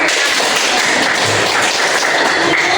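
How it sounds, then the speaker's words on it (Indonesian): A classroom of students applauding their groups in a Catholic religious education lesson, with a dense, loud burst of clapping held at the same level from start to finish. "kita berikan tepuk tangan"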